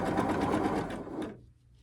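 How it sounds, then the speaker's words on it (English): A sewing machine stitches a chain of quilt block fabric pieces in one fast, even run of stitching, then stops abruptly and leaves near silence. "I'm just going to sew down one side, then take the whole chain and then sew down the other."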